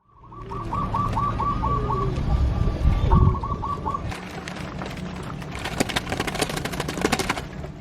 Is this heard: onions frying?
no